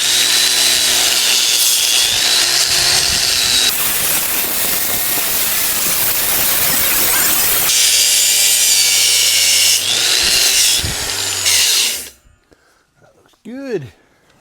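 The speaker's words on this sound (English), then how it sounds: "Those wire wheels are deadly." A wire wheel grinds metal clean before welding on a snowmobile groomer drag, a loud, harsh, continuous scraping whir in long passes that ends abruptly, followed by near silence and a brief voice.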